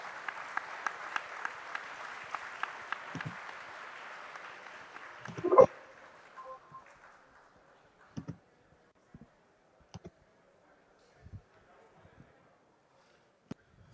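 Audience applause at a conference in Lagos: a dense, steady round of clapping that swells briefly and then fades. Only scattered soft knocks and a few late claps remain afterwards.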